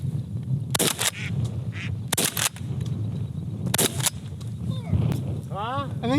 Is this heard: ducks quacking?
yes